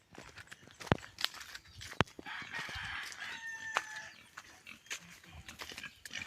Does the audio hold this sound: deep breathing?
no